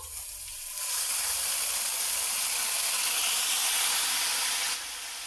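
Chopped tomatoes hitting hot oil in a pan burst into a loud, broad hiss of sizzling that holds steady for several seconds, then cuts back to a quieter simmer, with no voices.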